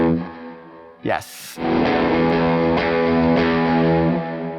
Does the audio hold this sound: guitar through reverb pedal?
yes